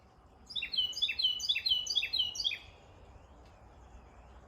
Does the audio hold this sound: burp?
no